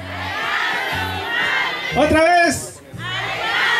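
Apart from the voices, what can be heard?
crowd shouting a minister's name at a rally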